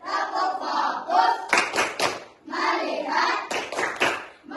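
A class of children chant in unison and clap their hands in short, sharp groups between the chanted lines. The claps are loud and close, and the chanting carries on around them.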